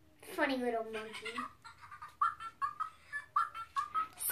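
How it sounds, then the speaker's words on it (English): A Fingerlings toy monkey gives a run of funny electronic monkey chirps and whistles, starting with a long warbling call and followed by a string of short squeaky yips, close and fairly loud. "So he makes some funny little monkey noises."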